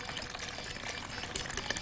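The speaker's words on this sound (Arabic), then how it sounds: "فانا محتاجه ان انا احط شويه ميه" Boiled water is poured steadily into rice cooked in milk for creamy rice pudding, making a brief, continuous splashing trickle.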